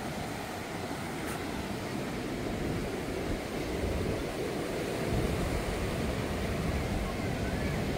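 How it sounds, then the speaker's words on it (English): Rough ocean waves surging onto the beach at Durban, South Africa, a continuous wash of surf with wind noise, fairly faint and distant-sounding, without talk. "those waves look crazy"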